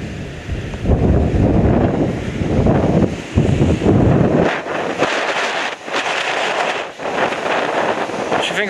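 Strong gusts of wind buffet the microphone in rough, roaring bursts that rise and ease, with a brief lull partway through.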